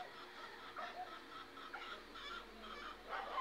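Buff Orpington chickens cluck softly in a small backyard coop, faint, scattered short calls over a quiet background.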